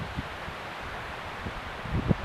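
Wind blows by a lake on a carp fishing outing, a steady broadband rush with buffeting on the microphone. Low thumps and a rustle stand out near the end, with no clear talk.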